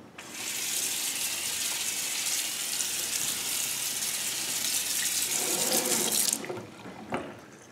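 Stove grates rinsed under a running kitchen tap, a steady loud gush of water splashing continuously for about six seconds before cutting off, followed by a few faint clinks.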